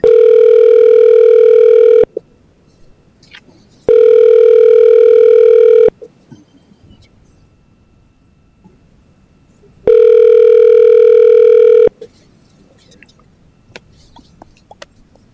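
Steady telephone dial tone in long pulses, about two seconds on and two off, heard three times, loud and clear, with quiet room noise in the gaps while a call is placed into a sports and events authority meeting.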